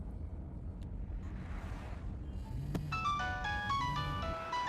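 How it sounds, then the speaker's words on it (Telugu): A mobile phone rings with a bright, beeping melodic ringtone that starts partway through after a quiet, breezy lull and continues to the end at moderate level. "అతను ఫోన్ రింగ్ అవుతుంది."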